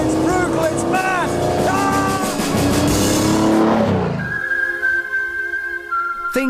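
A 6-litre V12 racing car roars loudly nearby, its pitch climbing through rapid gear changes before dropping to a lower drone with a steady whine.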